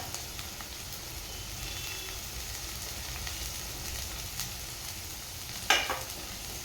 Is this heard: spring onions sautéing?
yes